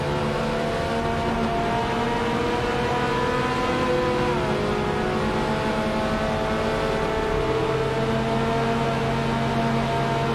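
Race car engine in Forza Motorsport, a steady loud droning whine with shifting pitch as the car drifts and loses grip through a turn, continuous without talk.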